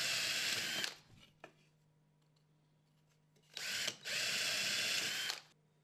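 A power drill bores holes into wooden slats in two loud bursts, the first about a second long and the second longer, with quiet handling in between.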